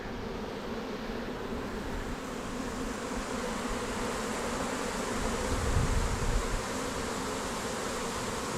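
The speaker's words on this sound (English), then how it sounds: "they're all over here" A dense swarm of bees buzzes steadily and continuously around a garden tree nearby, a low droning hum that swells slightly toward the end, with no voices.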